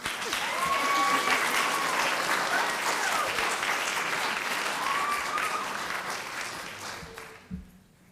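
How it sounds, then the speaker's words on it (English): A crowd at a school board meeting applauds loudly and steadily, clapping swelling early then tapering off toward the end. "Let's give them a round of applause."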